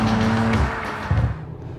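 Audi RS4 Avant station wagon on RS suspension driving past, a near engine drone that fades and shifts, then swells briefly again before tapering off.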